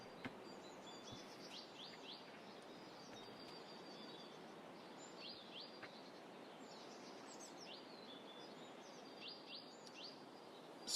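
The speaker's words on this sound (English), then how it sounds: "Birds." Small birds chirp and tweet in an open field, scattered high calls repeating over a quiet, faint background of soft outdoor noise.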